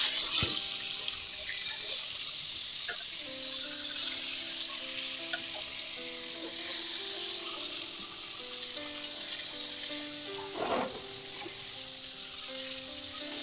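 Garlic and spices frying in a pan for a river fish curry, a steady soft sizzle with faint scraping and clinks, fairly quiet throughout.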